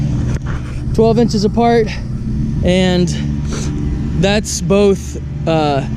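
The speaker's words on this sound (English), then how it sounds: "my wife's over there mowing or doing something on the tractor" A tractor or lawn mower drones steadily nearby in a backyard garden, a low continuous engine hum running beneath a man's close, loud speech throughout.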